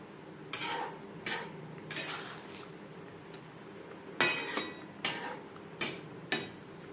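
A spoon knocks against a pan while egg is mixed into simmering gravy for potato and soybean curry, giving about eight sharp metallic clinks in an uneven rhythm over a faint bubbling background.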